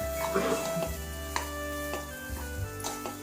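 Tomato rice with soy sauce, chili powder and green chilies being mixed in a pan, giving intermittent scraping and light clinking strokes over a constant hum, with no voices.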